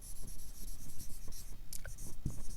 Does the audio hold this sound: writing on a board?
yes